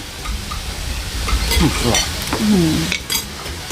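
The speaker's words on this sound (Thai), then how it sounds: "ผักบุ้งไฟแดงกำลังในกระทะนะ" Morning glory greens sizzle and crackle while being stirred in a hot wok, with a few metallic scrapes and clinks from the utensil over the frying noise.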